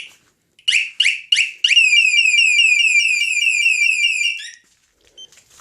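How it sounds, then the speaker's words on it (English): A Scorpio motorcycle alarm chirps three times as someone approaches, then breaks into a loud, continuous warbling siren tone for a few seconds before cutting off. "the alarm is going to eventually go off."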